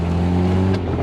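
An engine in a 1980s Mazda truck hums strongly under acceleration, a brief, steady, close drone without voices.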